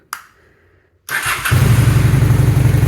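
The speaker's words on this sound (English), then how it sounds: "Bike starts and idles perfectly fine." A 2001 Honda Shadow VT600CD motorcycle cranks over briefly, then catches and fires up, settling into a loud, steady, rumbling idle close by.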